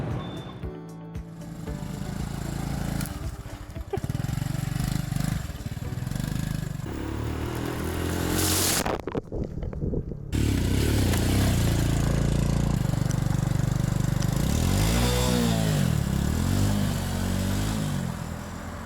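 A Honda Blade motorbike runs on a Vietnam road, its small engine droning and shifting pitch with clattery bursts and a brief wind-blasted gap midway, the engine note climbing again toward the end.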